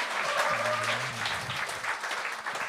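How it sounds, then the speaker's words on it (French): A studio audience at a comedy show breaks into a loud, steady round of applause, with a brief low hum or voice beneath the clapping early on. "j'aimerais ça qu'on ait un tonnerre d'applaudissements à Phil Le Bourdet"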